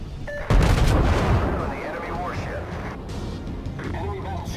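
In a World of Warships naval battle, the battleship König's main guns fire in one heavy booming salvo followed by a long rumbling decay, with someone talking excitedly over the game sounds.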